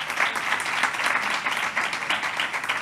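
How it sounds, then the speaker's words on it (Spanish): Audience applause at a Civil Protection recognition ceremony for honoree José Manuel Rivero Osuna, a steady, dense wash of many hands clapping at even loudness for about three seconds, with no voices over it. "Fuerte aplauso para Rivero."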